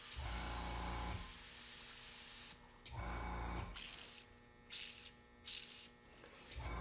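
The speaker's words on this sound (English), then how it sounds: "tilting the airbrush and giving a little bit more color drops to this makeup" An airbrush sprays makeup color in a steady close hiss, then pulses on and off in short bursts as the trigger is worked, with a faint hum underneath.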